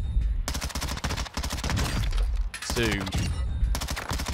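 Lachmann Shroud gun fired in short bursts in Call of Duty, sharp loud rapid cracks in repeated clusters, with a voice speaking briefly over the shots.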